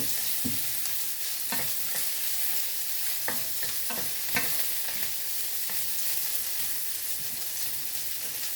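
Garlic fried rice fries in a pan with a constant bright sizzle, broken by repeated scraping strokes of a spatula stirring at a steady, unhurried pace.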